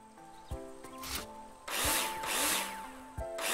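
A power drill drives screws in the video game Builder Simulator: short whirring bursts with rising pitch at first, then longer, louder grinding runs, close and without talk.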